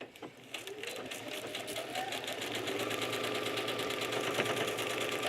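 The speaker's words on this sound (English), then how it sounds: "Slide it into your sewing machine and sew on that line where the 1 and 2 intersect with" Sewing machine stitching along a printed line on a paper-pieced quilt block for a throw pillow, a steady fast mechanical rattle that builds and runs continuously at close range.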